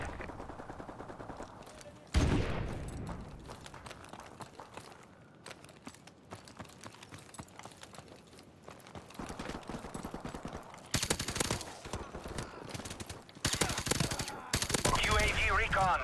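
Rapid automatic gunfire in Call of Duty: Modern Warfare Remastered multiplayer on PS5, with rattling bursts and sharp bangs near and loud, intermittent bursts over a steady background, heaviest toward the end.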